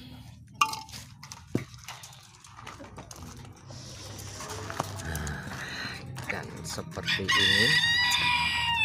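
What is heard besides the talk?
green junglefowl being fed and calling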